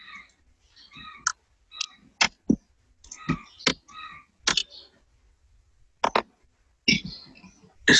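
Keys clatter on a computer keyboard as an nmcli command is typed on a Linux command line, with sharp separate clicks in short irregular bursts and gaps between them, close and fairly quiet.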